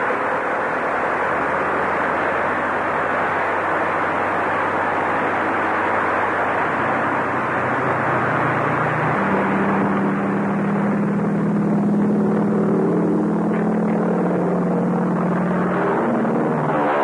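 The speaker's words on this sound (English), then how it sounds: "Start the plane." A propeller airplane engine starting drones loudly and continuously, its pitch shifting and rising partway through as the motor revs up.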